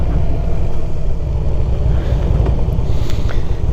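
Riding a Harley motorcycle on a hot day with a very low windshield, steady heavy wind buffeting the microphone over a low engine rumble, loud and continuous throughout.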